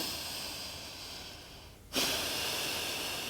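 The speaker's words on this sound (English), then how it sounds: "Take a deep breath here." A deep breath during a yoga practice, heard as a steady airy hiss that dips briefly and then swells into a stronger, sustained breath, close with no talking.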